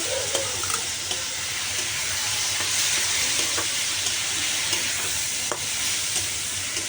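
Ground cumin and red chilli powder fry in oil in a pan while being stirred, a continuous loud sizzle with scraping stirs throughout.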